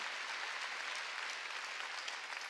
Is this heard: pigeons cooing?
no